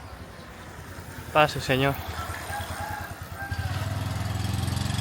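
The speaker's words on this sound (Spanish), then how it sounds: "¡Cuidado que nos atropella la moto!" A motorbike passes close on a Bangkok street, its engine rising to a steady, loud putter in the last second and a half, with voices speaking briefly over the street noise just before it.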